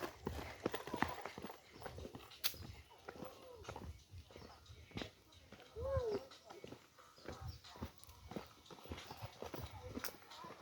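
Horse hooves clip-clop in a steady, fairly close rhythm on a hiking trail, with voices talking over them and faint birds in the background.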